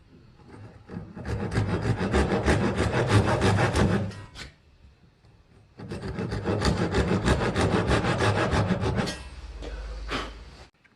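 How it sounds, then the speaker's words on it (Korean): Hand saw cutting through wood in two long bursts of steady back-and-forth rasping strokes, close and loud, with a short pause between them. "톱질을 5번을 했습니다"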